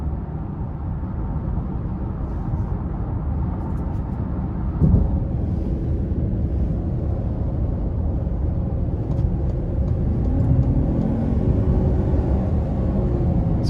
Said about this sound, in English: in the sport mode, it definitely tends to rev hot as it's getting ready to do a pull of some sorts.